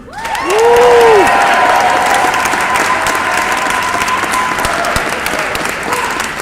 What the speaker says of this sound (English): let me hear you as we welcome Senator Durbin